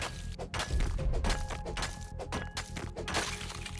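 Rapid pickaxe strikes on a sulfur node in the survival game Rust, a run of sharp clanking hits over a humming game soundtrack with background tones.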